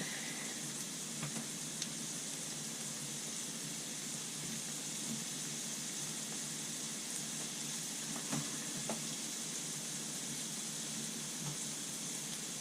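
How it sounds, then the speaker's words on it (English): Onions frying in a pan for a tater tot casserole give a steady, soft sizzle and crackle that runs unbroken throughout, with a few faint pops. "Fried onions."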